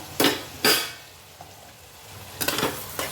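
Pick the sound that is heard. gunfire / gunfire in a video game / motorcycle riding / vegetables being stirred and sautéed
vegetables being stirred and sautéed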